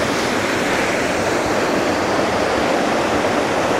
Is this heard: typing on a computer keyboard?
no